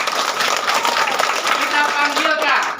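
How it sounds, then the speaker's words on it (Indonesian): An audience at an Islamic kindergarten graduation farewell ceremony breaks into loud, dense applause. Close clapping carries on steadily for the whole stretch. "Tepuk tangan ya."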